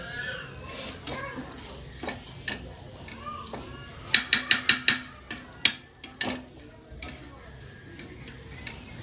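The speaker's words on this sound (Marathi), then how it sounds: "नंतर मिक्स करून घ्यायचे चला आपले कारले मस्त मिक्स झालेले आहेत बघा" Dry-cooked bitter gourd (karela) being stirred in a pan on a griddle, with a run of sharp rhythmic scrapes and clacks of the spoon against metal over a low sizzle, close by, with a voice talking at times.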